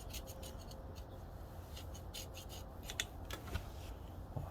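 Old gasket material is scraped off an engine cover on a KD80 with rapid, quiet rasping strokes, steady and close, over a low background hum.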